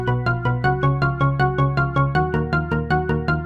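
A live-looped song built in Ableton plays at its original tempo of 159 BPM, with a steady, fast pulse of plucked synth notes over a low repeating bass, even and loud for a few seconds with no talking.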